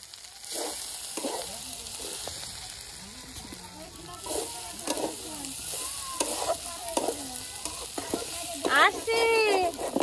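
Food fries in oil in a wok with a constant close sizzle and the scrape of stirring, and brief voices come in near the end.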